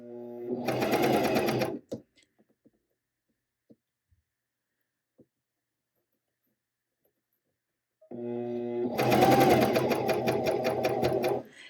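A sewing machine stitches fold over elastic binding onto knit fabric in two close, rapid bursts of whirring needle chatter, with a quiet pause of faint handling clicks between them.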